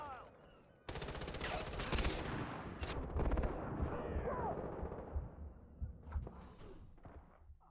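Gunfire in Far Cry 3, bursts of shots cracking out over a busy game soundscape, loud and repeated with a dense stretch of rapid fire before easing into scattered pops.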